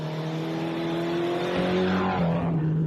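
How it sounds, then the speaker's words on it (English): A Mitsubishi Evo rally car on a forest stage at a Canberra rally revs hard with popping turbo anti-lag, its engine note steady then rising and falling, heard from a moderate distance without talk. "Evo there, you actually hear him struggling to get the anti-lag off"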